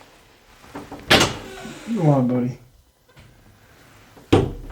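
Door being opened at home to let a cat out: a sharp latch clack, a creaking swing, then another thud a few seconds later, with a short spoken phrase between.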